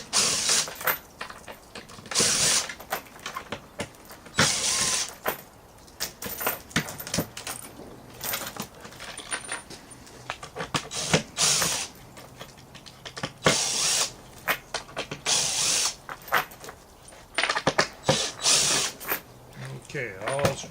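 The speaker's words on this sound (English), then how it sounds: "And then we take all the screws out." Screws being taken out of a tie-wrap tire chain for an ATV or tractor tire, with irregular close clicks, ratcheting and small metallic rattles in bursts while a person talks intermittently.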